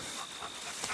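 A dog pants steadily and rapidly at close range, a soft breathy rhythm against a constant hiss of outdoor woodland noise, with no talking.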